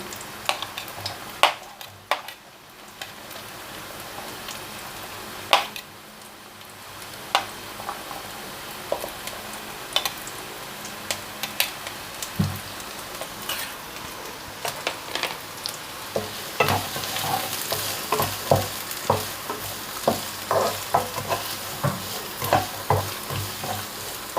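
Garlic and shallots sizzling and stir-fried in hot oil for American-style fried rice, a steady crackling fry with repeated sharp scrapes and clinks of a spatula against the pan, growing busier and brighter toward the end.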